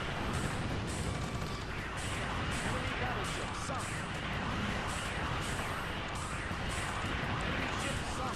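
Laser and particle gun fire in the naval combat game Warship Gunner 2, a dense, continuous roar of rapid blasts and crashes that never lets up, loud throughout.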